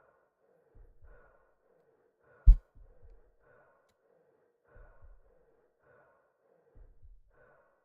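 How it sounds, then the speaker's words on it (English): Labored, rhythmic breathing of a horror game character walking through a dark void, slow heavy breaths repeating about every second with soft low thuds beneath, plus one sharp loud knock partway through. "All I'm hearing is labored breathing."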